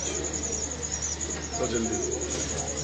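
Pigeon from a hot region cooing close by, a soft low murmur running steadily under a person talking, with a constant hum in the background.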